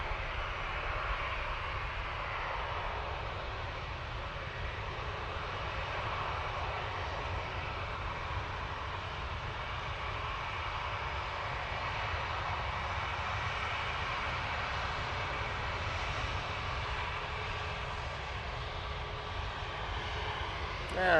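A KLM airliner at Manchester Airport gives off a steady, distant engine roar that holds evenly throughout, with no clear voices over it.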